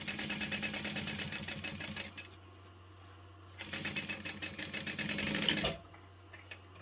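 A sewing machine backstitches a beauty bag in rapid, even, mechanical clatter. It runs in two close bursts separated by a short pause under a steady low hum.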